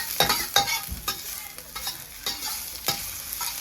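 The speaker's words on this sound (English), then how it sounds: "Stir fry" Ginger stir-fried in hot oil in a wok: quick scraping stirs and sharp spatula clacks over a soft sizzle, close and brisk.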